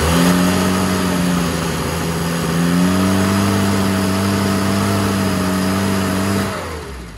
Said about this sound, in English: just to get a quick sound of a flat engine.